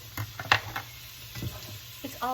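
Butter sizzles in a hot pan while a loaded pork roast is being cooked, a low steady crackle broken by a few sharp clinks and scrapes of a utensil.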